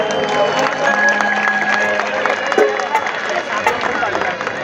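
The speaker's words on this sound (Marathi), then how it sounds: "महिलांसाठी जरा जोरदार टाळ्या होत आहेत." Crowd at an outdoor Dahi Handi event clapping for a women's team forming a four-tier human pyramid, a loud sustained wash of applause and cheering with music and a voice over the top.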